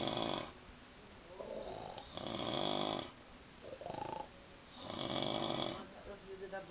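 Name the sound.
people sleeping and snoring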